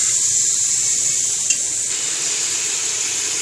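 Meat sizzles in a hot karahi pan while cooking for a black pepper karahi. There is a steady, close hiss of frying with a faint scrape of stirring and no talk.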